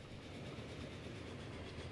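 A train in the Transport Fever game rolls along the rails with a steady, faint rumble and soft clickety-clack, continuous and without talk.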